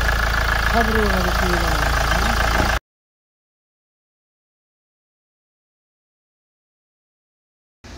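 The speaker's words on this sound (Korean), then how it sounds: "시동 걸었습니다" A Kia Carens with a U engine, its four injectors blown and injector hold-down bolts broken, idles with a steady low hum under a man's speech, then cuts off to silence.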